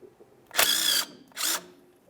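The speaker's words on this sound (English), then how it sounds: "We'll use a 14mm to remove this banjo bolt." A 14mm tool, likely an impact gun, spins off the brake caliper banjo bolt on a 2002-2005 Ford Explorer's rear driver side, two short loud whirring bursts separated by a brief pause, close up.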